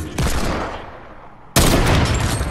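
Gunfire from a Fortnite match, a burst of loud, dense shots followed by a sharp second volley, close and continuous with no speech over it.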